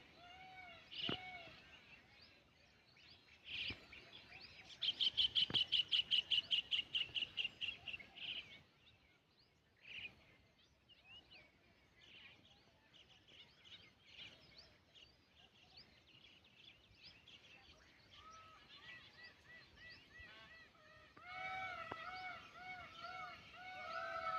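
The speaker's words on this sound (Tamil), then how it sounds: "காலையில் வந்தவுடனே குருவியும் மயில் இது மாதிரி கத்துற அந்த ஒரு சத்தம்" Sparrows and peacocks call in a hill forest in the early morning, with scattered chirps, a loud rapid trilling burst, and a cluster of repeated calls near the end, heard at a distance.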